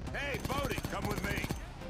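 Crackling gunfire rattles in the Payday 2 VR game, with sharp repeated shots running under a person talking over them.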